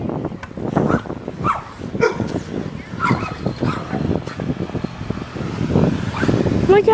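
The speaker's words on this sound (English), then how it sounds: "Oh my glob. It is dogs." Several dogs bark and yip loudly and close during a bike ride, with repeated sharp barks over road and traffic noise and a voice speaking.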